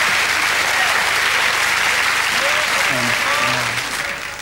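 Sustained applause from a boxing audience fills the whole stretch, loud and dense, with a few voices calling out over it before the clapping starts to thin toward the end.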